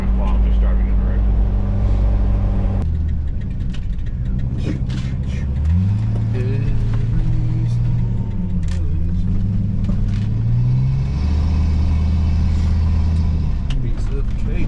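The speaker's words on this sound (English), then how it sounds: "These trucks just make a lot of noise." A roll-off dumpster truck drives on a road, its engine loud and close with a steady rumble and shifting revs throughout, no voices over it.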